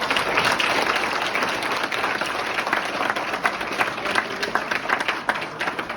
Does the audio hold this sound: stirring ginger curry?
no